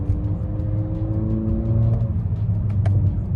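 A 2018-2022 Honda Accord Sport pulls away and accelerates through paddle-shifted gears, heard from inside the cabin as a low, steady engine drone with faintly rising tones.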